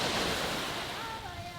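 Sea waves surging and washing in a steady broadband roar, continuous and fairly close, with a faint higher tonal whine emerging toward the end.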